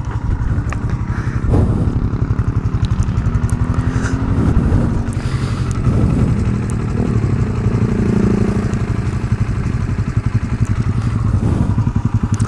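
A Honda TMX125 motorcycle engine runs close by with a steady, rapid pulsing rhythm, holding near idle with occasional light revs, and no talk over it.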